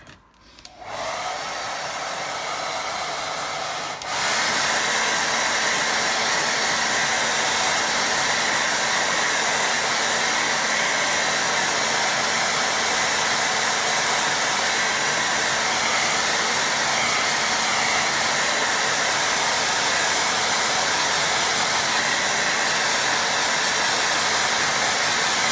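A hair dryer blows steadily on a watercolour painting, a loud, close, continuous whoosh that steps up in intensity after a few seconds and runs unbroken to the end.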